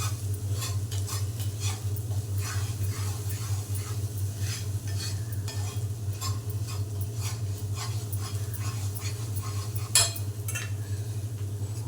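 Homemade spice masala and chili powder stirred and mixed in a pan for a soaked chana dal vada curry, rhythmic scraping strokes over a low steady hum and faint sizzle; close, without speech.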